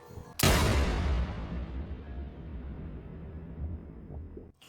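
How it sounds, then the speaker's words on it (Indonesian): A single loud pistol shot cracks out, then echoes and slowly fades into a low rumbling tail. "Howard langsung mengeksekusi Emmett dengan pistolnya."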